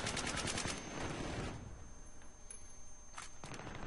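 Suppressed RPK machine gun fire in Battlefield 3, a dense burst of muffled rapid shots up front that thins into scattered softer reports, with a couple of later clicks.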